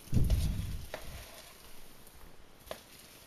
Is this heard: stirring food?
yes